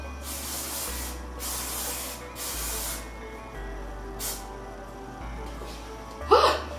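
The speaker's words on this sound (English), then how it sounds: "flip my hair upside down and give it one last spray" Hairspray is spritzed onto hair that has been curled with a flat iron and flipped upside down, making several long, hissing bursts separated by short pauses, close to the microphone.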